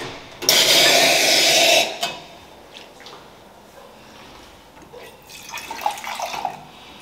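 Tap water running hard into a sink during cleanup in a coffee-brewing setting, a loud steady gush for over a second that cuts off, followed by quieter clinks, drips and handling sounds.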